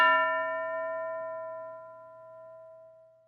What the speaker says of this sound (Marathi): घंटा वाजताच टीचर एकाला उभं करतील